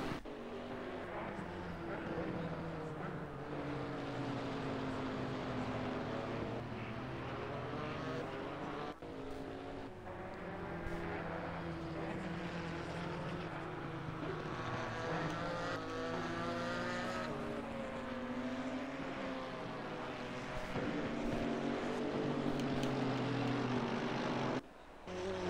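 Two Porsche GT4 race cars running together on a wet Brands Hatch circuit, engines rising and falling through gear changes in a continuous loud drone, with occasional speech over the top.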